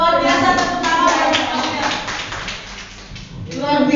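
A group applauding during a school mentoring discussion at SDN Cakung, brisk clapping from several people that fades in the middle and picks up again, close and fairly loud with no talking.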